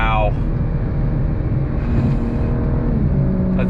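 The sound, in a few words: BMW M4 Competition accelerating on throttle, gear shifts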